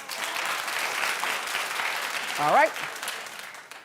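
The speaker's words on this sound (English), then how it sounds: "Clap if you do." A talk-show studio audience claps steadily at moderate volume, and a voice speaks briefly over the applause near the end.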